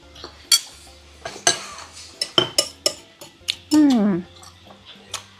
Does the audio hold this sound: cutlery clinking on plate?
yes